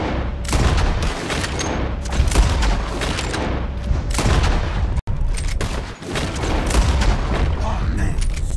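Dense, continuous volleys of gunfire in a Red Dead Redemption 2 shooting contest at flying birds, loud and sustained with overlapping shots and only brief gaps.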